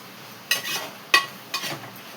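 Onion and tomato softening in a pan with a faint hiss, broken by three brief scraping stirs and a light metallic clink of a utensil, close and quiet, with no one talking.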